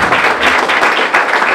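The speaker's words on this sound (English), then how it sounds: "I want you to join me in a warm round of applause" Audience at a chamber and Rotary Club event gives a warm round of applause, dense loud clapping from many hands throughout with slight swells.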